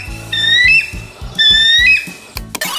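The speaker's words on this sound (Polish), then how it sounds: "Bielik amerykański." A bald eagle gives repeated high, thin whistling calls in two bursts with chattering notes. Each burst is followed by a short pause, and the calls are heard clearly and alone.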